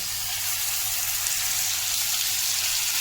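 Potol and shrimp spice paste hits hot mustard oil with a continuous bright hiss, a dense, even sizzle that stays steady and close without speech.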